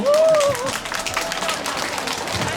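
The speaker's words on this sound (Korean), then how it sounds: "박수 한번 주세요" Crowd at a neighborhood charity concert applauding in a steady wash of clapping, with a short tonal squeal at the start and murmuring voices underneath.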